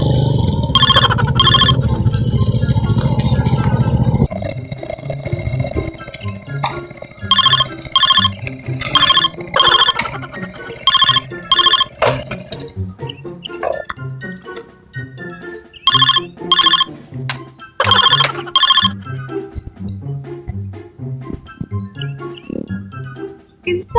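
A telephone rings for an incoming call, loud and close, its electronic trill repeating in regular paired bursts with short gaps, while people talk in between and over the rings.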